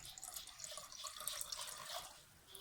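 Water pours into freshly squeezed lemon juice, making a soft, continuous splashing trickle for a couple of seconds that fades slightly at the end.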